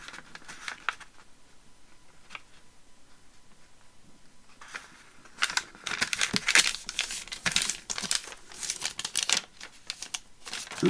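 Paper pages of a scrappy handmade journal being folded over and handled, crisp crinkling and rustling bursts close by, quieter at first and then busier, with no voices.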